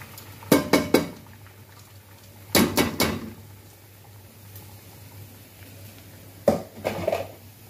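Rice tipped into a metal cooking pot after browning, three quick bursts of clattering pot and grain sounds, each a rapid cluster of knocks and rattles, separated by quiet gaps, close by with no talk.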